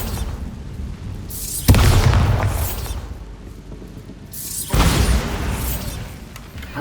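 A Bombarda blasting spell explodes twice in Hogwarts Legacy, each a loud, sudden boom with a long rumbling decay, the two blasts about three seconds apart with no voices.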